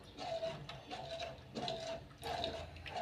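Ragi flour porridge is stirred in a pot over a low flame, with soft rhythmic scraping strokes repeating about every second at moderate volume.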